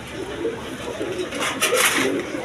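High-flying pigeons coo softly in a loft, with low, repeated burbling calls and a few sharper sounds over a noisy background.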